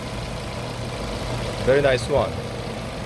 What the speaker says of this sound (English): LPG engine, you should know that the same with the gasoline engine. The same mission, same engine, only the fuel is different